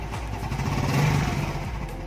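A warm Suzuki Smash 115 motorcycle engine idles steadily nearby with a low, even putter throughout.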